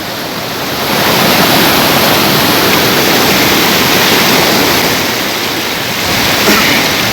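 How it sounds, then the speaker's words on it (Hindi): A mountain river on the Kailash pilgrimage route rushes past, a loud, close, unbroken roar of flowing water that swells slightly midway, with no voices. "किस तरीके से जल बह रहा है"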